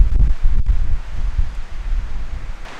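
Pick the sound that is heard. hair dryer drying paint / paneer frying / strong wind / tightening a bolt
strong wind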